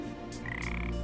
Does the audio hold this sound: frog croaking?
yes